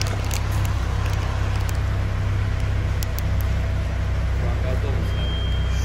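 A car engine running on LPG idles with a steady, even low hum and rumble, close and constant throughout without any revving.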